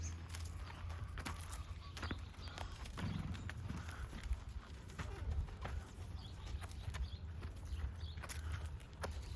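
A ridden horse walks and trots in a riding arena during a lesson, its hooves landing in a steady, fairly close clip-clop rhythm, with faint background sounds and no clear speech.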